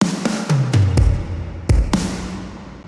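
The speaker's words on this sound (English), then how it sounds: "And there's also this cool fill using other snares and some toms from the sample pack." A quick drum fill from a sample pack rolls through roughly eight punchy snare and tom hits, the lower toms booming and decaying, loud and upfront with nothing else playing.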